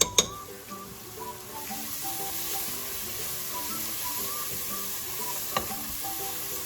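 Ginger garlic paste sizzling in hot oil while cooking dal dhokla, a steady close frying hiss with a couple of sharp utensil clinks at the start and near the end, no speech.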